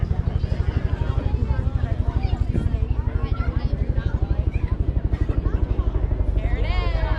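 A helicopter approaches for a duck drop in Ocala, Florida, its steady rapid rotor chop pulsing loudly throughout while people talk and chatter nearby.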